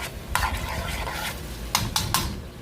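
Shrimp cooking in a pan over medium heat, a steady close sizzle broken by several sharp scraping stirs of a utensil against the pan.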